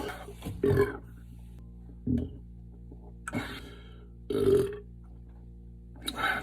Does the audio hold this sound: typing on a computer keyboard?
no